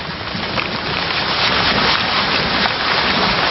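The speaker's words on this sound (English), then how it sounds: "When it's raining like this" Steady dense rain pouring down, a constant loud hiss with a rough wind-buffeted edge, no voices or other sounds.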